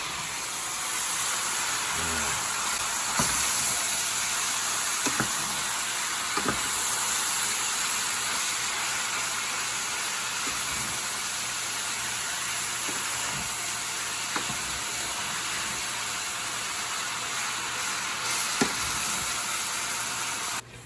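Ground beef sizzles and fries in a pan for lasagna, a steady dense hiss with occasional sharper pops and crackles, close and continuous with no talk.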